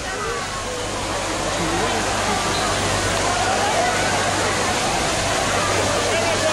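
Steady rushing water pours continuously from a waterfall at Aqualandia water park in Benidorm, splashing into a pool with a broad constant roar and no clear pauses.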